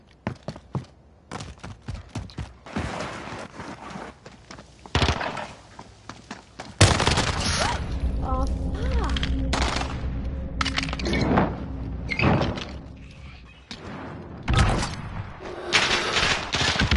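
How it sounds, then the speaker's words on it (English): Dual pistols fire in a PS4 shooter game in rapid bursts of sharp cracks, some isolated shots and then denser strings of gunfire mixed with impacts and breaking debris, loud and close throughout. "dual pistols, yippee"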